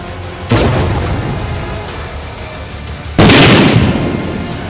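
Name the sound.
drone explosion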